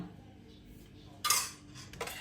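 Ingredients are poured into a cooking pot, giving a brief clatter and scrape of metal utensils against the pot, with two quick clinking bursts over a low room hum and no talking.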